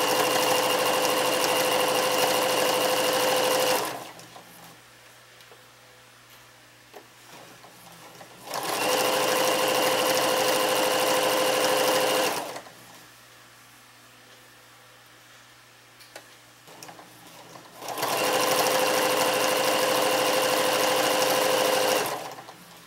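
A domestic sewing machine running in three loud, steady bursts of about four seconds each, separated by quieter pauses with faint handling noise, as back stitching is done on fabric for pajama bottoms.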